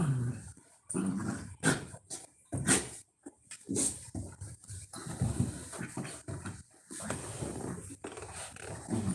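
A dog named Angus growls and grumbles in low, uneven bursts across several seconds, close by, with brief pauses and a few whimpering edges.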